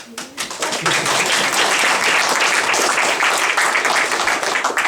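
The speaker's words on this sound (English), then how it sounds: "we want a good solid round of applause for Keith" An audience at an 80th birthday speech gives a solid round of applause, dense continuous clapping that swells quickly after a soft start and stays loud and close throughout.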